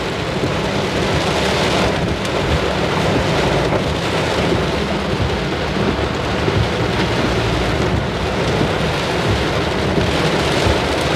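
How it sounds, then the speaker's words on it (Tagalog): Heavy typhoon rain pours steadily at night in a dense, loud wash, with thunder rumbling low beneath it and no voices. "Grabe, lakas ng ulan."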